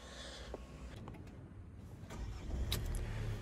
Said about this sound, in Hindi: यहाँ पे सनरूफ ओपन हो जाता है और इसे अभी बंद कर देते हैं